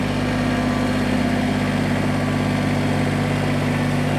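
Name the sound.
Kubota BX23S tractor engine idling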